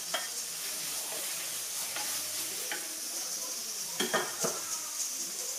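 Onion, ginger and garlic sauté in a pan with a steady broadband sizzle, while a utensil scrapes and stirs in several distinct strokes, some louder, near the end.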